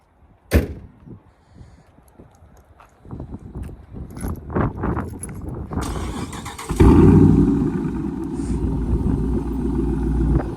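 A Dodge Charger R/T with the 5.7 engine is started nearby after a sharp door-like knock and some shuffling; the engine catches with a loud burst and settles into a steady, deep exhaust rumble.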